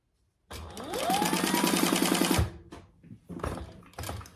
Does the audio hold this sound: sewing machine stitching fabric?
yes